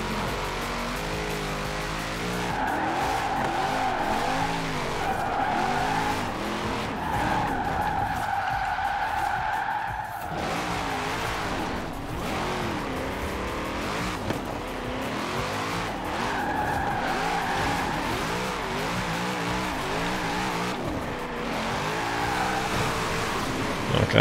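A race car in Forza Horizon 4 drifts sideways under heavy throttle, its tires skidding and squealing almost without a break over the steady drone of the engine, loud and close throughout.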